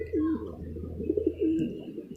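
Pigeons in a backyard loft give soft, low cooing calls, a few rolling coos close by, with someone talking alongside.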